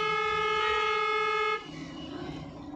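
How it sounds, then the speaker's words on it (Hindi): A car's horn gives one long steady honk on a busy road near a flyover, loud and held for about a second and a half before cutting off into traffic noise. "थोड़ा सा लॉन्ग हॉर्न पुश करो"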